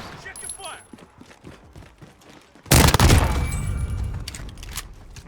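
Pistol in a video game firing three-round bursts, a sudden loud cluster of sharp shots cutting in midway after quieter clicks and rustles, with voices talking around it.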